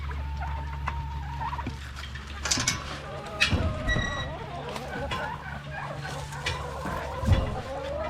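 Chickens cluck and squawk in an excited, uneven flurry as they are fed crab meat, with scattered bursts over a constant low background hum.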